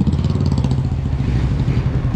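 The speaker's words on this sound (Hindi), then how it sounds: "तो अभी अपनी बाइक चला रहे हैं" Loud, close Bajaj Pulsar RS200 motorcycle engine chugging with a rapid, rough pulsing rhythm as the bike is ridden on half clutch.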